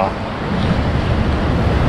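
Sea waves at a beach in Thailand, a loud, steady broadband wash of surf mixed with strong wind buffeting close to the microphone, continuous throughout.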